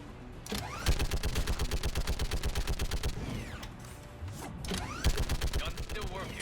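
Turret gunfire in the video game Mass Effect 3: loud, rapid, evenly spaced shots in long sustained bursts with a brief lull in the middle, then firing resumes.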